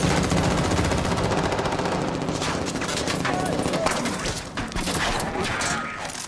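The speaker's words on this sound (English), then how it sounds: "Look at the recoil of the guns." Rapid, continuous gunfire from realistic video game guns, layered bursts of automatic fire with scattered sharp cracks and booms, loud and dense throughout with a game voice faintly in the mix.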